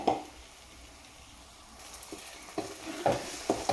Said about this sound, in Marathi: तर छानपैकी आता परतून घेऊ सगळा मसाला.